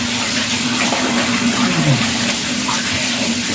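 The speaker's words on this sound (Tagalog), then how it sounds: "Napaaga po ang aking shower." A shower runs hard and steady, with cold water hissing and splashing without a break. There is a faint low hum underneath and no speech.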